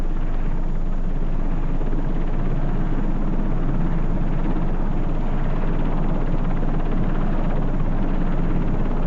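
A helicopter flying alongside an ultralight aircraft during in-flight refuelling, 1984, drones steadily and loudly throughout, its rotor chop blending into a constant dense engine roar with no pauses.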